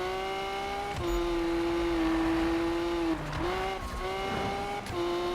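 A race car in Need for Speed 2015 roars at high speed, its engine holding a steady high tone with shifts and a brief dip before climbing again, loud and close, with no talk.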